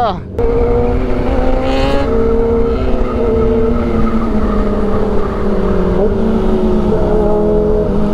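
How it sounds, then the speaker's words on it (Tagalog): A Kawasaki big bike revs hard at a gathering on Quezon Avenue, its loud exhaust roaring continuously with rising and falling engine tones, close and dominant over the whole stretch. "Pumuputok ang tambutso."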